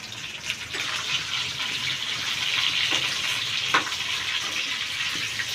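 Dried red chillies frying in oil in a kadai for gongura pickle, a continuous bubbling sizzle with occasional stirring clinks and scrapes, close and steady with no talking.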